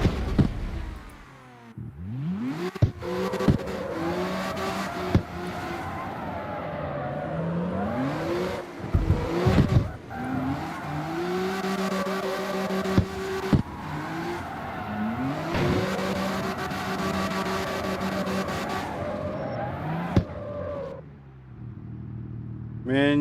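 A street car drifting in the racing game CarX Street, engine revving up and down in long sweeping pitches with bursts of tire squeal, playing steadily for over twenty seconds without a break.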